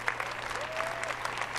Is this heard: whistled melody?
no